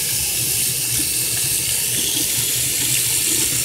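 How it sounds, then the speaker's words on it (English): Tap water runs steadily into a sink while a makeup brush is rinsed, giving a continuous, close, loud splashing rush with no voices. "Give it a rinse."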